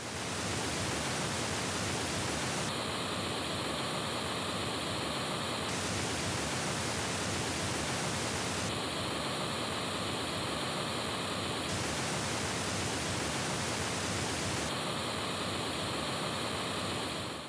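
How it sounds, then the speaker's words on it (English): Pink noise test signal plays continuously, alternating every few seconds between the original broadband hiss and a version played through a Zu Audio Method bookshelf speaker, whose colored response makes a notched, hollower sound, with no talk. "So what you're hearing is original pink noise"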